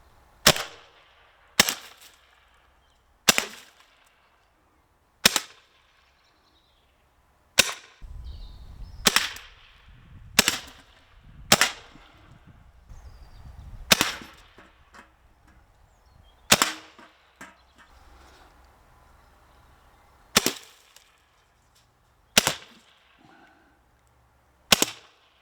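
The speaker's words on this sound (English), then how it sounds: "HDR.68 with the real 9mm bullets" An HDR.68 revolver fires real 9mm bullets: about a dozen sharp, loud cracks at irregular intervals, each decaying quickly, with quieter handling rumble between some shots.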